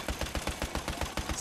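Rapid automatic gunfire in Battlefield 1, a fast, steady string of sharp close-range shots lasting the whole short clip with no voices over it.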